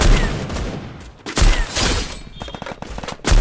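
Several heavy M82 sniper rifle shots in a mobile battle game, loud sharp reports spaced about a second apart with echoing tails between, plus quicker rapid shots near the end.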